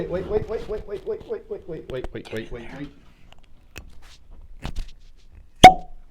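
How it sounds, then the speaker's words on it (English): A cork is pulled from a bottle of Ardbeg An Oa whisky, a single sharp pop after people talk and a few faint clicks and rustles. "I get to pop the cork."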